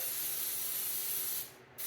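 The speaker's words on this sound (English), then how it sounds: "we're going to spray this really good over here at the sink" Cooking spray hisses steadily onto a baking pan at a sink, a loud close burst lasting over a second that breaks off briefly and then starts again.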